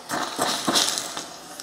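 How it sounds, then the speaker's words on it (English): A short, forceful hiss of steam bursting out in a few pulses from a Morphy Richards Turbo Reflex 9000 steam iron, close by, with no talking. "Let's get some steam out, shall we?"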